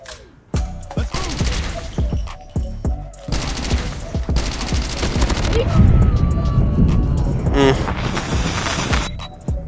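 Bursts of automatic gunfire from a gun in the mobile shooter COD Mobile, several rapid close volleys separated by short pauses, with a longer sustained spray near the middle and talk over parts of it.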